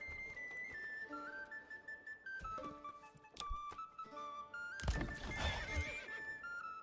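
In the medieval city-building game Manor Lords, a horse whinnies in long, wavering neighs alongside soft clip-clop hoofbeats and a louder snort or burst near the end, heard clearly with no talking.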